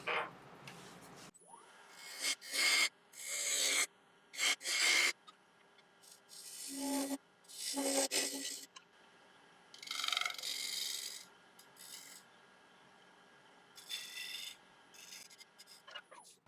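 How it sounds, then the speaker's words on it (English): Cutting a bead on a rare piece of African mahogany spinning on a wood lathe, heard as repeated close, rasping scrapes in bursts of one to two seconds, separated by quieter pauses over a faint motor hum. "I might form this bead around a little bit"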